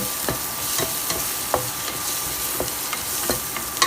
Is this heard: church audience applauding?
no